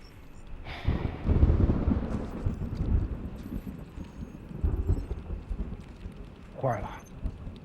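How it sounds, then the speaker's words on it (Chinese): Steady rain falls through a night scene while low thunder rumbles roll in twice, deep and prolonged, with a brief voice near the end. "首长，现场下雨了。"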